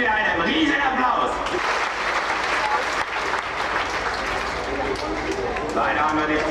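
Audience applause at a Movie World Germany police-themed stunt show, a dense steady clapping from a large crowd lasting several seconds, with shouts and voices mixed in.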